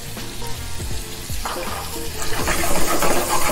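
Shrimp hit a hot pan and sizzle loudly and steadily, the frying hiss growing fuller toward the end with faint clatter of the pan beneath.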